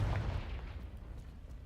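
A Confringo blasting spell explodes in Hogwarts Legacy, a single deep boom at the very start that fades into a low rumbling tail over under two seconds, quiet overall and without speech.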